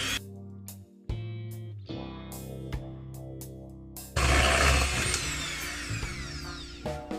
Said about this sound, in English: I'm gonna mix this with my mixer just for a little bit, for everything to combine